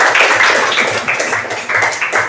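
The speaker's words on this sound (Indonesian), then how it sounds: "silakan kelompok 2 kita beri tepuk tangan dulu kelompok 2" A class claps for a student group after its presentation, a steady patter of many hands at moderate loudness filling the short moment without speech.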